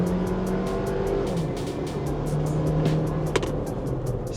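New Toyota 4Runner accelerating hard in sport mode with two people aboard, a steady loud wash of engine and road noise that holds constant throughout, no voices heard.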